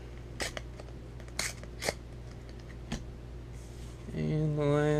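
Foil booster pack for the Yu-Gi-Oh! Secrets of Eternity set torn open in a few short, crisp ripping bursts, close up, followed by a louder stretch of rustling, with no talking over it.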